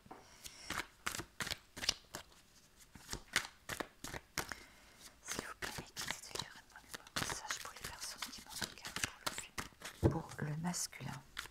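Tarot cards being shuffled and handled during a French-language card reading, a steady run of quick papery riffles and taps close by, with soft speech and whispering throughout.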